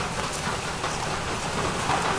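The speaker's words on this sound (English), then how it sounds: "this little rainstorm that we're having in Florida right now" Heavy rain from a Florida rainstorm pours down in a dense, steady hiss, loud and unbroken, with no voices.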